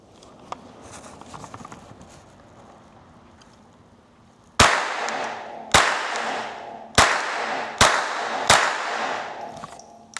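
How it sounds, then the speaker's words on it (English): Five unsuppressed shots from a Winchester rifle firing subsonic rounds, sharp loud cracks spaced about a second apart, each with a brief decaying tail, after a stretch of quiet background. "we're gonna test this unsuppressed first, just to get a baseline reading. I'll be loading 5 rounds"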